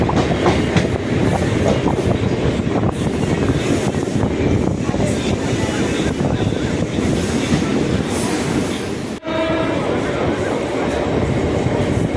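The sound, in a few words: train departing station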